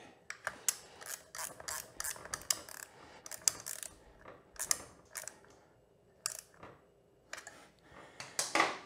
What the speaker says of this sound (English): we need to tighten down our bead lock